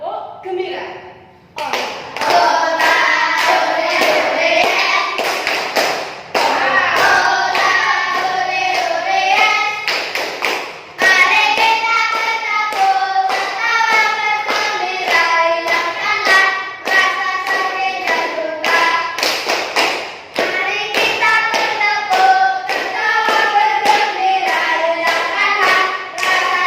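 Children in a classroom doing a rhythmic group clapping routine, loud sharp claps in repeating patterns while they chant and sing along throughout.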